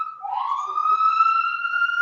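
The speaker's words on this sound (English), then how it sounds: "Oh, that's the ambulance." An ambulance siren outside in the city, a rising wail that climbs and holds a steady tone, heard clearly through open windows with no talk over it.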